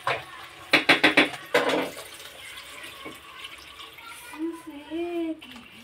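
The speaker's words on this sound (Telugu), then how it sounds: "ఇదిగోండి హీట వాటర్ పోసుకున్నాం కదా, ఇంకొంచెం పోసుకున్నాము" Hot water is poured into a vessel in short gurgling spurts, then settles into a softer trickle. A voice speaks briefly near the end.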